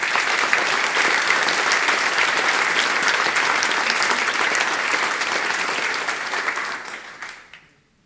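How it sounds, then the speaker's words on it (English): A conference audience applauds at an opening session, a dense steady wash of clapping from a large crowd that holds for several seconds and then fades out. "So please clap your hands for the community,"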